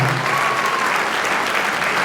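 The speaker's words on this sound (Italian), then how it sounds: "ancora un applausone a questo gruppo meraviglioso" An audience applauds a music group at a bilingual school's 40th anniversary event, giving dense, sustained clapping from a full crowd, steady and fairly loud throughout with no pause.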